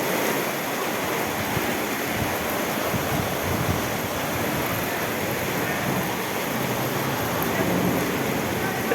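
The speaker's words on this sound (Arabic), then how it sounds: "رعد وبرق ومطر وايه." Heavy thunderstorm rain falls on flooded streets in Giza, with hail and lightning flashes. It gives a constant, loud roar of downpour across the whole stretch, with a faint murmur of voices beneath it.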